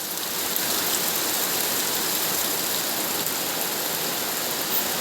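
Steady rain falls continuously, a dense even hiss of drops on surfaces with no pauses, fairly loud and close, with no voices over it.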